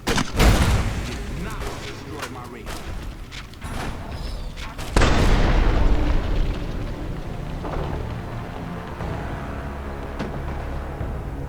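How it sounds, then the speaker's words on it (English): Explosions and gunfire ring out in Fallout New Vegas, a grenade launcher blast landing as a heavy boom halfway through after a run of sharp shots and thumps, with a voice talking over the game sounds. "So he has a grenade launcher on that rifle."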